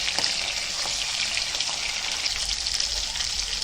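Mustard seeds, kalonji, fenugreek and curry leaves roasting in hot oil over low gas give a continuous crackling sizzle, dense and hissy with scattered small pops, steady from start to finish without talk.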